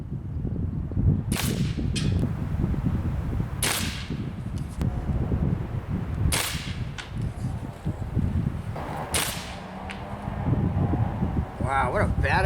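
Black Bunker BM8 folding break-barrel air rifle fires 18.13 grain JSB pellets outdoors, about four sharp cracks spaced a few seconds apart, each followed by faint mechanical handling, over steady wind and background noise.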